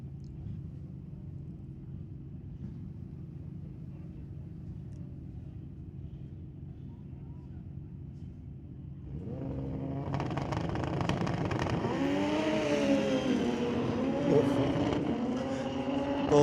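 Street-legal drag race cars launch at Mission Raceway Park, a steady low engine rumble giving way to loud, rising revving roars as the cars accelerate down the strip, with no talk over them.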